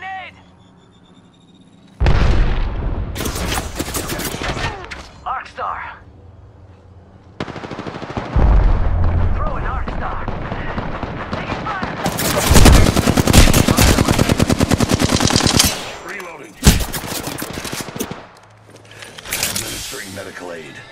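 Heavy automatic gunfire in an Apex Legends Season 8 3v3 match, with dense bursts and rapid volleys coming in several loud stretches and short pauses between them, over game music and voice lines.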